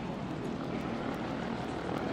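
A P-38F Lightning, the Glacier Girl, running its engines with a continuous broad roar and steady propeller thrum, loud and close with no pauses.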